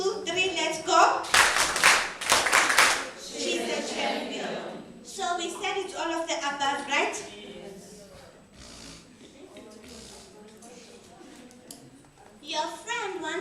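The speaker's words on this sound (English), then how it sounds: "Digital clap quickly." Classroom students burst into loud, quick clapping that lasts a few seconds near the start, then give way to several voices talking and chatting, with one more short flurry of claps at the end.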